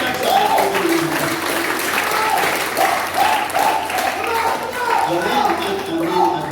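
A church congregation claps steadily and loudly, a continuous wash of applause with a voice faintly audible underneath.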